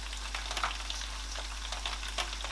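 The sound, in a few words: fish with Maggi frying in pot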